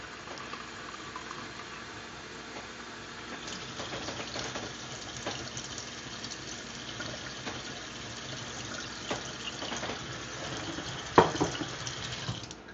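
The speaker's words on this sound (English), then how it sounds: "I usually put 1 cup of water in it." Water runs steadily into a pot of rice from a tap, a continuous close splashing and trickling stream with a few clinks near the end.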